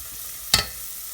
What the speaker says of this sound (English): A little stir to get the garlic in.